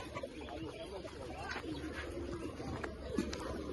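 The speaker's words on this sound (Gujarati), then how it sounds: "હા મિત્રો કબૂતર બતાવું તમને." Pigeons on a farm coo softly at a distance, low, faint calls repeating over background noise and rustling.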